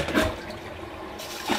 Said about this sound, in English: Single flush.